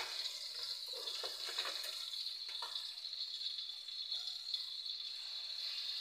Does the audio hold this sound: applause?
no